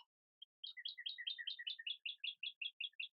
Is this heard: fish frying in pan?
no